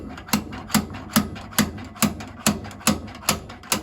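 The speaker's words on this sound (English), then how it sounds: "now what I'm going to do is screw this slide hammer into this pin here" Slide hammer knocking at a suspension pin on an Austin 7 Special, a steady series of about nine sharp metallic knocks spaced roughly half a second apart, close and fairly loud with no talk.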